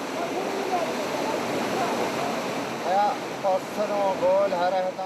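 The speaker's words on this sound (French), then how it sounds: "la rivière est en crue. Impossible de passer avec la Jeep." A loud, steady roar of a flooded river's rushing water in Pakistan fills the whole clip, too strong to cross by Jeep, with voices speaking over the torrent toward the end.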